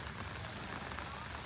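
Heavy rain pours steadily over a waterlogged groundnut field in Gujarat, making a dense, even hiss with no breaks and no talk, heard from close by.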